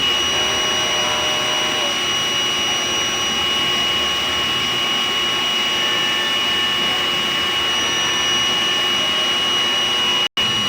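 A sublimation printer runs its print head cleaning cycle, a steady loud mechanical whir and hum with faint high tones that holds evenly throughout and cuts out for a split second near the end.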